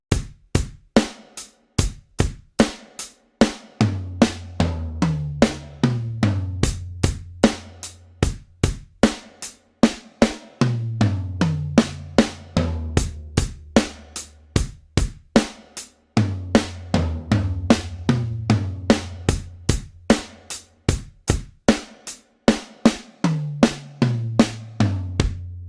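Linear drum fill played by finger drumming on pads: sharp, close percussive hits in repeated groups, with deeper tom-like strikes cascading downward in pitch, alone with no voices.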